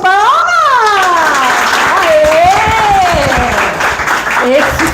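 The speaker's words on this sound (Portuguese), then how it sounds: "vocês vão bater palmas" Animated clapping from a youth confirmation class in a Portuguese-language Old Testament lesson, with loud, excited voices and cheering running over the applause throughout.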